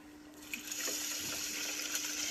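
Water pours into a pot holding sushi rice, a steady close splashing and filling stream that rises slightly over a couple of seconds, with no talking.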